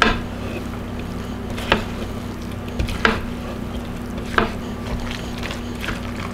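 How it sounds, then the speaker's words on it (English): A big spoon stirs Alfredo sauce into a chicken and broccoli mixture for a keto casserole, making soft, wet scraping and sloshing sounds with a few sharper clinks of the spoon against the bowl over a steady low hum. "using my big spoon, I'm just going to stir this till it's all mixed really well"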